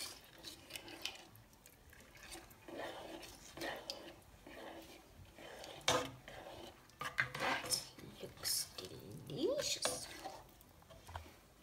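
Greek lentils stirred in a pot with a utensil, producing soft, irregular scraping and clinking against the metal, fairly quiet and close, with a few sharper knocks and a voice speaking in between.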